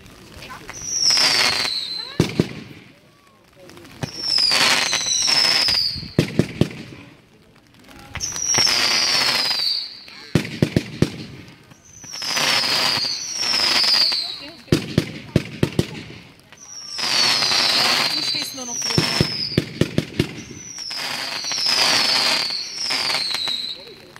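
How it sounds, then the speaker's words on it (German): Repeated bursts of fireworks at a music fireworks show in Stein near Nuremberg go off in waves, each with whooshing launches, rising whistles and dense crackling bouquets that fade before the next volley. "Feuertöpfe in grün, gefolgt von imposanten Knisterbouquets mit Turbosound."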